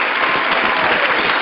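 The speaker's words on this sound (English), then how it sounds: "I'm gonna give y'all these claps" A podcast host claps for guests, producing a dense, loud burst of applause-like clapping that is close and continuous for about a second and a half, with no talk over it.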